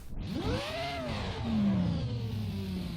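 Engine revving from an old, partly broken Assetto Corsa mod car in the racing game, a rising and falling whine that climbs, dips and then settles into a steady drone, close and clear with no talk.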